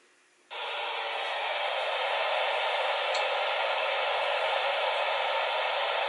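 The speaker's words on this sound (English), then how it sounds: "So I have it on the, let's see, yeah, the white noise setting." A baby sound machine on its white noise setting switches on after a brief quiet moment, then gives a steady, even hiss that holds at a constant moderate level with no talking.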